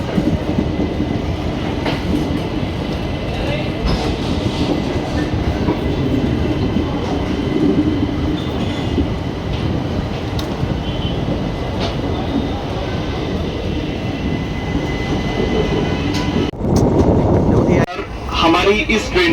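An Indian Railways Bharat Gaurav tourist train departs from platform 2 with a constant loud rumble and rhythmic clickety-clack of wheels over rails. Voices can be heard talking over the noise throughout.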